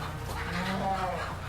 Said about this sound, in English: Look at the cows,